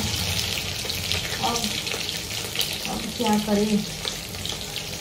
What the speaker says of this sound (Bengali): পটল ভাজা হয়ে গেল